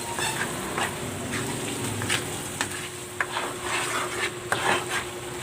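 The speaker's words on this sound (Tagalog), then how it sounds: "Ayan, nagisa ko na ng maigi yung alamang." Bagoong alamang, shrimp paste that can hold tiny shells and crabs, sizzles steadily as it is sautéed in a pan, with frequent scraping and clinking stirs of a utensil against the metal, close up and with no speech.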